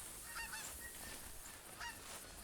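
Geese honk in the Hirschfelden hunting game, a few nasal calls sounding at a distance over a steady outdoor background.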